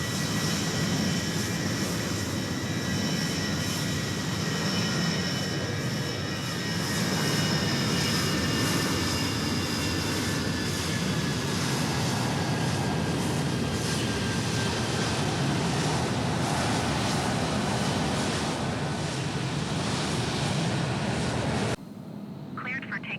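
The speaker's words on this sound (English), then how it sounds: "I hear something taking off. We got that American 737-800" An American 737-800 takes off in Microsoft Flight Simulator 2020, its jet engines a steady broad roar that holds loud throughout before cutting off abruptly near the end, with talk over it.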